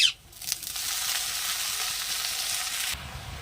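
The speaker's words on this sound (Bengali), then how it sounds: "কড়ার মধ্যে শাকটা দিয়ে দিয়েছি" Washed jute leaves hit a hot wok with onion, garlic and green chilli, a sharp initial burst giving way to a steady close hiss of sizzling that continues alone and drops slightly at the end.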